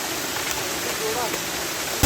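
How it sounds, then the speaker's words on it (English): The Katiki Waterfalls roar as a loud, dense, continuous rush of falling water close by, with a voice speaking briefly over it. "we are here at Katiki Waterfalls."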